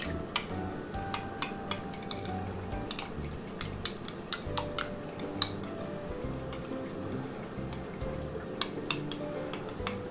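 Water goes into a bowl of chutney for samosa chaat with faint trickles and drips, mixed with light clinks of spoon and dish in a quiet kitchen.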